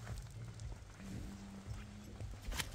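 A young Don or Budyonny foal walks on firm ground, its hooves clip-clopping in a faint, uneven series of steps over a low background hum.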